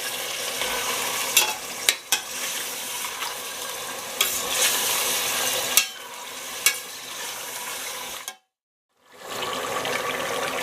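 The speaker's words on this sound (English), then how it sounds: "add in the garlic and ginger paste and stir that in until the garlic is cooked properly" Lamb pieces fry in a hot pan with garlic and ginger paste while being stirred, giving a steady close sizzle broken by sharp scrapes and knocks of the spoon, then a brief drop to silence before the frying resumes.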